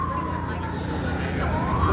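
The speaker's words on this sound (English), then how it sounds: "we can hear sirens coming." Emergency sirens rise and fall in the distance at an outdoor No Kings event in Belmont, NC, a steady wail carried under crowd noise.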